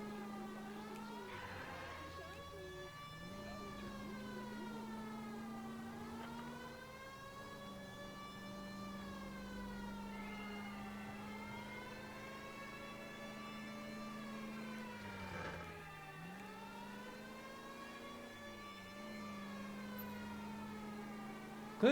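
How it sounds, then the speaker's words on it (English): A police car siren from the 1940s Los Angeles detective game L.A. Noire, a continuous rising-and-falling wail that sweeps slowly up and down in long cycles, loud and steady with no talking. "Sirens on."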